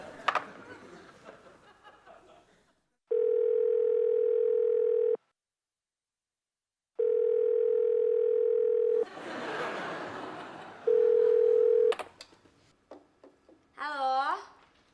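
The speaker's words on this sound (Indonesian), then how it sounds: "Kamu telepon aja ke mejanya Gusti, ya." A telephone dial tone in an office, a steady loud hum heard in long stretches separated by silence, followed by a shorter burst, with voices and laughter before and between them.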